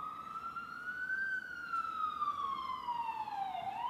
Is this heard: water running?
no